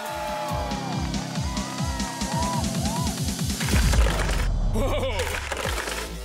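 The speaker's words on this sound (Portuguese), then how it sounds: "O carro derrapa sobre os barris e sobe a rampa." A Hot Wheels Locomotory toy car, a small car with a freight-train spirit, skids over barrels and up a ramp with engine whine and scraping, under a narrator's continuous voice.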